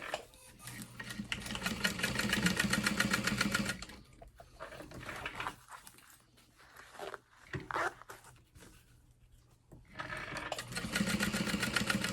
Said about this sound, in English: Press that down and top stitch.